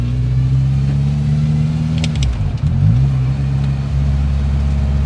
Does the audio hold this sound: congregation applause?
no